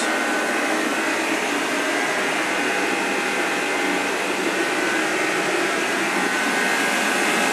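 A temporary heater running inside a soot-damaged house under repair, a steady loud blowing roar that stays constant throughout with no talking.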